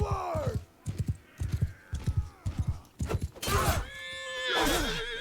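A horse in the medieval combat game Mount and Blade 2 Bannerlord, its hooves thudding in quick clip-clop bursts before a loud, wavering neigh and whinny rises near the end.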